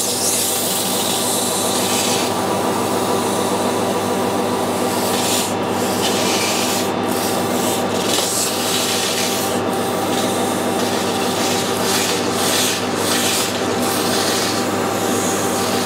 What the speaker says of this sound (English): I'm going to polish some of the golden marks off there with some nice fine wet and dry and nice fine emery tip.